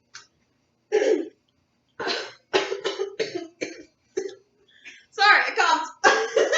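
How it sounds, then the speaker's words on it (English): A person coughs repeatedly, a series of sharp, close bursts separated by brief pauses, with a longer run of coughs toward the end. "I coughed."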